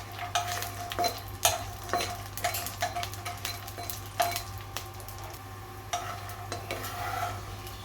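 Bori lentil dumplings stirred and fried in oil in a kadai, with a steady low sizzle under repeated scraping strokes of a spoon against the pan, close and moderately loud.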